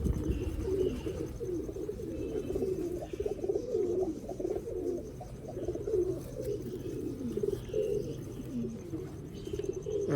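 A flock of Mian Nazir bloodline pigeons on a Sialkot rooftop coo continuously, dense layered throaty calls close to the microphone, unbroken and without speech.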